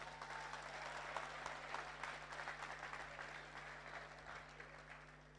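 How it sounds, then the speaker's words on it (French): Audience applause at a business-day event in Gabon honouring the woman who heads Deloitte and the employers' federation: dense, steady clapping from a crowded hall, sustained throughout at moderate distance with a faint background hum. "Applaudissez pour elle très fort."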